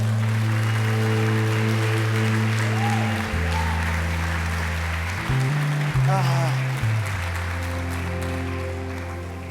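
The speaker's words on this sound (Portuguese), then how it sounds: "Aplauda mais uma vez o Senhor." A church congregation applauding the Lord during a worship service, a loud, sustained wash of clapping over a sustained organ or keyboard and music bed.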